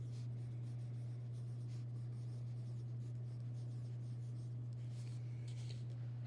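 A pen or marker scratches steadily across a page while expanded-form numbers are written above boxes in an area model, a close, continuous writing sound over a low steady hum.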